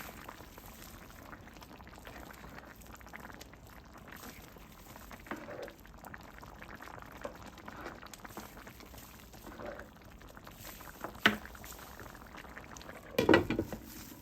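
Vegan green chile stew with softening potatoes simmers in a pot with a low, steady bubbling, quiet throughout, with a couple of brief louder clinks or splashes near the end.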